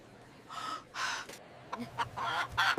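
A chicken clucks in several short, squawky bursts, fairly faint and spaced unevenly across a few seconds.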